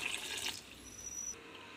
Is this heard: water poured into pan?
yes